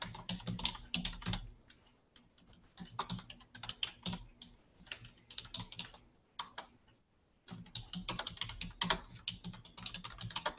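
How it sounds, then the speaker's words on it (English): Quick clattering keystrokes on a computer keyboard come in uneven bursts, close and fairly quiet, with a brief pause before the typing resumes. "type something to y'all."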